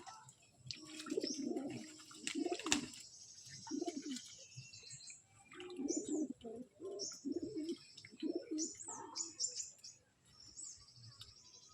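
Pigeons in a home loft coo softly and repeatedly at close range, in low rolling bursts with brief pauses between them, mixed with faint chirps and light rustling and no talk.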